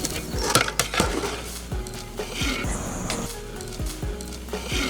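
Soaked puffed rice being stirred in a large pan with a utensil, giving repeated clinks and scrapes of metal against the vessel over a soft rustle, close and fairly quiet.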